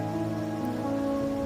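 Steady rain falls in the video game Wuthering Waves, a soft, even patter that is continuous and fairly faint, with a low hum underneath and no talk.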